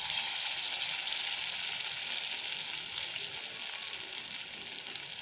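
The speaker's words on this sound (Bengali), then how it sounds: "এবার আমি ছোটো ছোটো করে বড়াগুলো ভেজে নেব।" Small chhana boras fry in hot oil in a kadai, giving a steady, close sizzle with fine crackling bubbles that holds evenly throughout, with no voices.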